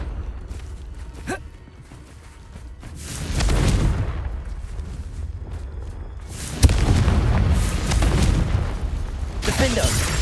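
Confringo fire spells in Hogwarts Legacy go off as three heavy booming blasts, each rumbling on for a couple of seconds, with quieter game sounds between them.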